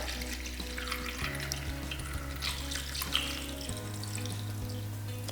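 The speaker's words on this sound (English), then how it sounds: "We're going to add 310 grams of warm water." Warm water pours from a tap into a Thermomix TM6 bowl as a steady hiss and splash, close by, over a low hum that shifts pitch partway through.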